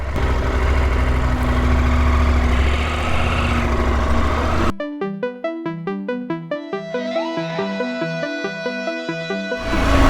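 A KTM 890 Adventure R motorcycle engine idles while warming up, a steady close rumble for about five seconds before it cuts off abruptly and gives way to a different, tonal sound.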